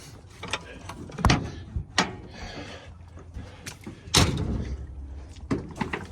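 Several loud door thumps and clunks of a John Deere 624 loader's doors closing, spaced out over a few seconds, with mechanical rattles and faint voices between them.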